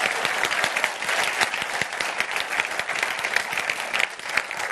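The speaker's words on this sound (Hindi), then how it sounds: "मुझे तो सबसे अच्छी यहाँ की जनता लग रही है, दोनों के लिए ताली बजा रही है।" A live debate audience in India claps loudly and densely for both debaters, sustained applause filling the hall from start to finish with no break.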